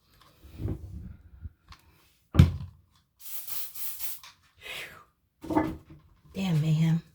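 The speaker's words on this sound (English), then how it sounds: "I have to spray something." Cleaner sprayed onto a crusty Swiss Army knife, with several short bursts of spray and handling noises spaced irregularly, close by, while a person talks between them.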